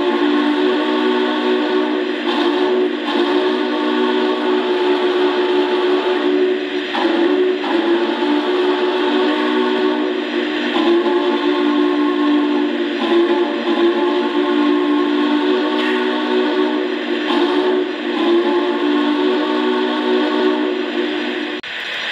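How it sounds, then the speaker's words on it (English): Sustained steam whistle tones from a Lionel O scale Union Pacific Big Boy model locomotive ring out loud and continuous, layered with chime-like harmonics and bells and brief pauses between blasts. "Let's go ahead and give a listen to all the whistles and all the bells."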